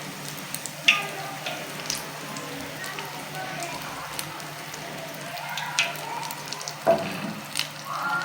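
Fish fingers deep frying in hot oil give off a soft, steady bubbling crackle with scattered small pops, fairly faint and continuous throughout.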